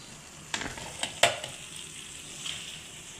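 Masala spices frying in a pan for a rice dish, a quiet continuous sizzle broken by a couple of sharp stirring scrapes.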